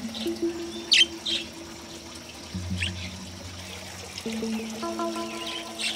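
Several pet birds settling into a new cage chirp and peep in short, scattered calls, with sustained tonal hums and a faint trickling underneath; no talk.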